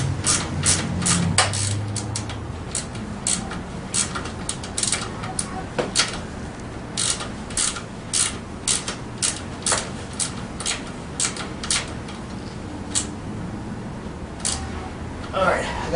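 Ratchet snugging down parts during assembly of a Tao Tao 90 dirt bike, giving repeated sharp clicking bursts in uneven runs over a background of room noise and someone talking.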